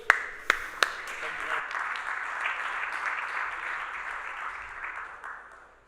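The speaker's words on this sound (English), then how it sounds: "Warm round of applause." An audience at a metaverse strategy conference applauds a panel, a few sharp early claps swelling into steady moderate applause that tapers off near the end.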